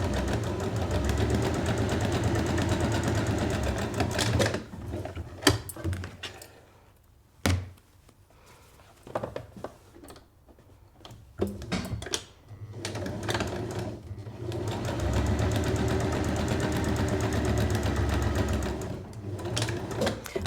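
A sewing machine runs in steady bursts as it stitches a drawstring channel along the edge of a fabric petal drawstring bag, loud and close, with quieter pauses and a few thunks in the middle.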